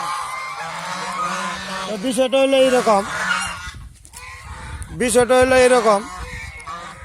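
Large farm geese (ducks as stated) honk loudly and nearby in two nasal, repeated bursts, with someone speaking in between the calls.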